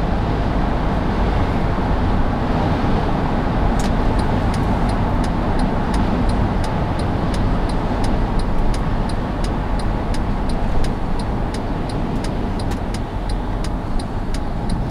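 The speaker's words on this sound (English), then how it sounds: "There is quite a bit of wind noise though, but it's a windy day" A steady broadband roar of wind and road noise fills the cabin of a 2008 Honda CR-V EX-L driving on a windy day, constant throughout, with a faint regular ticking that appears partway in.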